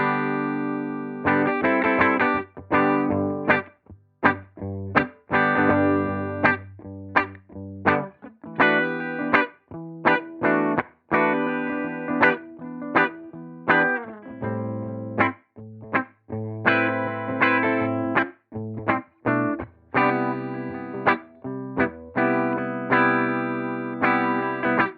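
Electric guitar through a vintage clean amp preset in the UA Showtime plugin, chords and single notes with clear gaps between phrases, played solo without talk.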